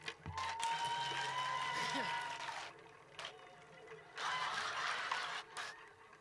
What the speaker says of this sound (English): Y'all are so sweet for that spontaneous clapping.